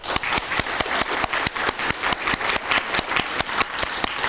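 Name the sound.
applause from forum audience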